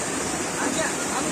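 Water pours steadily over a temple linga, a dense continuous rushing wash close by with no other sounds.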